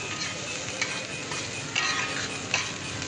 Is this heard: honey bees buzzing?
no